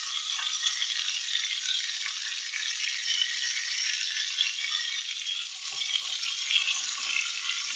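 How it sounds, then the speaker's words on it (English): Fish fillets sizzle and crackle steadily in a hot pan, a continuous close-up hiss with no voices. "when you're frying things and sort of the pan's wider than your flame"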